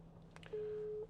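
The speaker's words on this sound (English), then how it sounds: "So it's ringing me, it's engaged" A short electronic engaged tone sounds once through a 2018 Land Rover Discovery's car audio system, like a busy signal on a phone line, faint and steady, with no voices.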